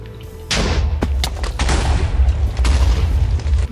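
An explosion in the video game LifeCraft 2 bursts in with a heavy boom, followed by a rapid series of booming blasts and crackling debris, loud and sustained over several seconds.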